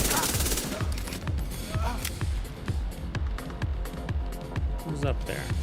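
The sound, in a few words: sniper gunfire in the video game The Division 2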